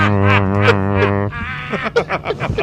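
A voice imitates an old propeller plane cruising at altitude with a steady, nasal droning hum that breaks into choppy, sputtering bursts near the end.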